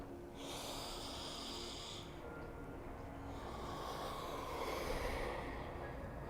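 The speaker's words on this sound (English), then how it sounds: "2 more breaths wherever you are." Slow, audible breathing during a vinyasa yoga flow, with long airy inhales and exhales that are close and steady in a quiet room.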